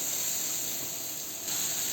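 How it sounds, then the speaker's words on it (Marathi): Moong dal batter hits a hot, lightly oiled griddle with a soft, steady hiss that stays quiet and unbroken for about two seconds. "त्याच्यावर आपण मुगाचं जे मिश्रण केले ते टाकणार आहे"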